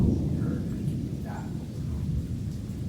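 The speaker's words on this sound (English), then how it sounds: "Oh, lightning and thunder." Thunder from a passing storm rolls through as a deep, continuous rumble, fairly loud and sustained, with no clear voices over it.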